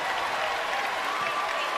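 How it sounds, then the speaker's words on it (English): Arena crowd at a basketball tournament game roars with sustained cheering and applause, a dense, steady wall of clapping and shouting filling the whole moment. "Wow, the crowd loved that one."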